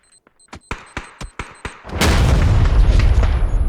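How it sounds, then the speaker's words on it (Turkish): A C4 charge in the shooter game PUBG: Battlegrounds gives a run of sharp, quickening beeps, then detonates in a loud, heavy blast that rumbles on to the end with no talking. "C4 sesi geliyor bir yerden"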